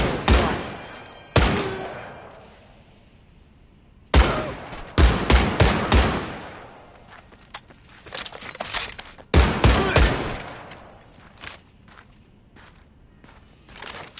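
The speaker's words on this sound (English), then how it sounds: "rapidly firing the Gewehr's entire magazine will cause its accuracy to go wild" Gewehr rifle in a video game fired in rapid bursts, sharp loud cracks in a few irregular groups with short gaps and faint clicks between, close and dry, no voices.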